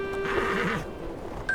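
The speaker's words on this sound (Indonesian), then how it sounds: "Abu Nawas menepuk leher kudanya dengan lembut dan memintanya untuk mulai berjalan." A horse gives one close, clear whinny that rises and wavers for under a second as it is urged to start walking, then a quieter stretch follows with no talking.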